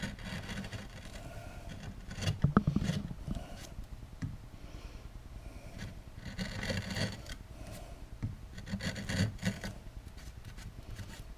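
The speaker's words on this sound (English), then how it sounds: "This is number 4 fishtail gouge. Try to smooth that out a bit." A number 4 fishtail gouge carves and smooths a wooden spoon, producing close scraping, rasping strokes in irregular bursts, with a louder cluster of cuts near the start and quieter rubbing between.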